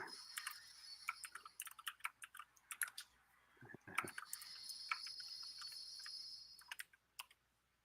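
Quick bursts of keystrokes clatter on a computer keyboard as a chat message is typed, sparse taps at first, then a denser run of fast, light clicks that fades out near the end.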